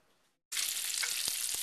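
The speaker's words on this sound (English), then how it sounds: "I have a nice big skillet here that I'm frying up some bacon in" Maple bacon fries in a big skillet, a steady loud hiss and crackle of sizzling fat starting abruptly after a brief quiet moment, with a few soft pops and taps, close up and without talk.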